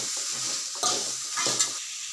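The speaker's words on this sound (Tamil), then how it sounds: "நல்லா பச்சை சுவாட போகிற அளவுக்கு நம்ம நல்லா எண்ணெயில் வதக்கிக்கணும்." Spices sauté in hot oil for chana masala, a close, steady sizzle broken by a few scrapes and stirs of a spoon against the pan, with no one talking.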